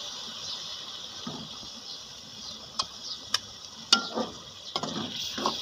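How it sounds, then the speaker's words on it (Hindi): Ground tomatoes hit a hot pan for macaroni karahi, giving a low steady sizzle with a few sharp clicks and spoon taps scattered over it. "अब इसमें टमाटर जो हमने शुरू में ग्राइंड किए हुए थे वो डाल दें"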